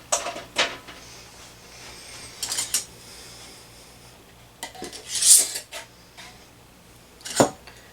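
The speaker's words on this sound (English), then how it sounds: "I'm going to put this in the canner." Glass jars of home-canned tenderloin clink and knock in a few separate bursts as they are set into a canner. Sharp, close, bright clatters are spaced by quiet pauses.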